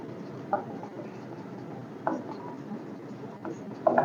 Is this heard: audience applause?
no